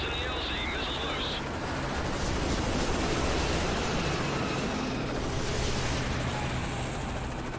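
Missile impact in Call of Duty: Modern Warfare 3, a sustained, loud, broadband rumble of blast and debris that fills the whole stretch with steady low roar and no clear pause.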